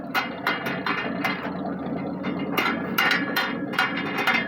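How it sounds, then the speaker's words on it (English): An old truck engine, started for the first time in years, runs with a rough, clattering mechanical rattle, close and fairly loud, with rhythmic bursts of knocking over a steady churn. "we'll give her some RPMs first"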